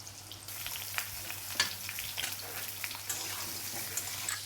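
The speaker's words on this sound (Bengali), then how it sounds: "পটল আলু ভালো করে আমি ভেজে নেব" Potato and pointed gourd fry in hot oil with cumin, dried chilli and bay leaf, giving a continuous close sizzle dotted with small crackles and pops, with no talking.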